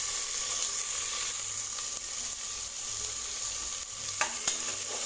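Chopped tomatoes sautéing with salt in a pan while being stirred, for dal rice: a steady close sizzle and hiss throughout, with a few soft clicks of the spoon near the end.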